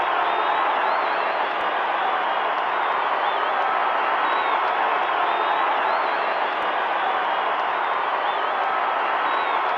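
A stadium crowd in the AFL Live 2 football video game on PS3 roars and applauds after a goal, a dense, continuous, loud wash of cheering that holds steady throughout.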